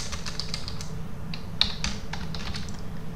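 Typing on a computer keyboard, a quick run of light close key clicks in irregular bursts over a low steady hum, no talk.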